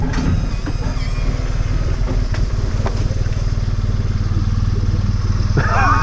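A motorcycle idles steadily during parking on a country road ride, a loud, close, even engine throb with some clatter, and a brief sharper mechanical noise near the end.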